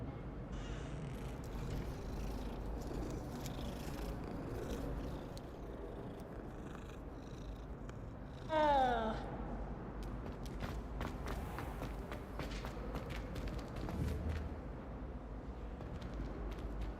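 A cat in the video game Hogwarts Legacy purrs steadily and faintly, with one clear rising meow partway through over a low ambient game background and soft footsteps.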